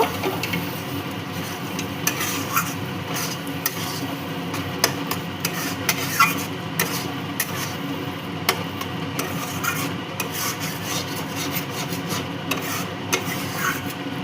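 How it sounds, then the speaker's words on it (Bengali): Poppy seed paste stirred together with garam masala and ghee in a pan, a steady scraping and rubbing rhythm with soft clinks of the utensil, continuous and close throughout. "এবার দিয়ে দিচ্ছি গরম মশলা আর দেব ঘি। এবার ভালো করে মিশিয়ে নেব।"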